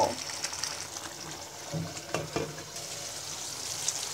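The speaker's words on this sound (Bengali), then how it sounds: "এবার ঢাকনা দিয়ে ঢেকে মিডিয়াম আঁচে 10 মিনিট জাল করব।" Raw mango pickle cooks covered over medium heat, giving a faint, steady sizzle with a few soft clinks and knocks partway through.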